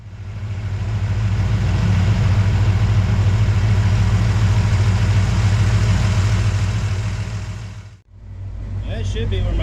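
A 1979 Chevrolet C10 squarebody pickup idles steadily as it warms up, a close, even low rumble holding for about eight seconds before a brief dip, then settling again with faint light clatter above it.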